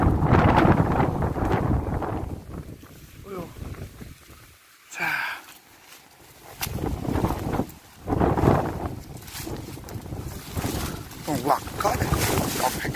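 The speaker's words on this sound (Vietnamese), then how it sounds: "Trời ơi, gió nó siết lên." Strong gusting wind buffeting a microphone outdoors near a hedge planting site, loud broadband roaring bursts that rise and fall, briefly dropping out mid-clip, with people talking at times underneath.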